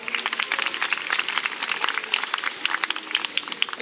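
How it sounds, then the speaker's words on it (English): Audience applause rings out for killer whales at a SeaWorld San Diego orca show, a dense, steady clapping from a large outdoor crowd that holds throughout without talk. "Let's give one more round of applause for our amazing animals."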